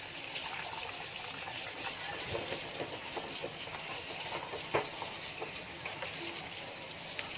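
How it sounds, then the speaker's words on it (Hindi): Water is poured into a pot of rice for cooking in a home kitchen, a steady soft gushing and trickling that runs continuously at low level with small splashes. "ये मैंने अंदाज से पानी डाली"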